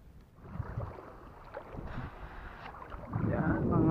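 Wind gusting over the sea off Bagacay island, Tacloban City, Leyte, with a small boat on the water; a steady mid-level rush of wind and water that swells louder near the end, with no speech over it.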